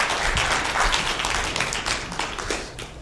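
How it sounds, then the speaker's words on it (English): An audience at a cycling race media launch claps continuously for about three seconds, a dense, steady patter of many hands that slowly fades toward the end. "A clap for Kenya Cycling Federation."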